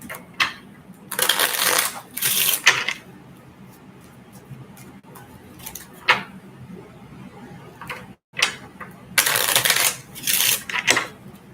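Bursts of rapid riffling card shuffles, close up, separated by quiet pauses with light handling clicks.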